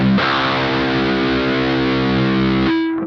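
Heavily distorted electric guitar plays a riff slowly, a loud sustained chugging chord held for a few seconds before stopping abruptly.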